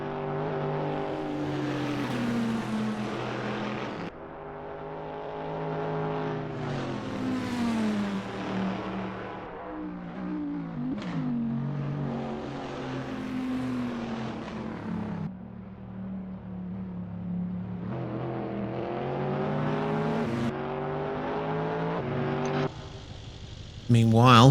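A BMW Z4 race car engine in a racing video game revs up and drops back repeatedly as it shifts through gears, fairly loud and steady, under continuous commentator speech.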